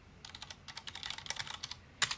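Computer keyboard being typed on in a quick patter of light, close clicks, ending with one sharper, louder keystroke like the enter key, quiet and without talking.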